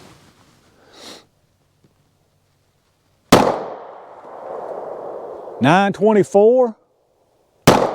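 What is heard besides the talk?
9mm pistol shots firing Berry's hybrid hollow points through chronograph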